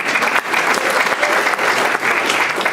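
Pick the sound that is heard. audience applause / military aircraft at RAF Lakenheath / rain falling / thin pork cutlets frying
audience applause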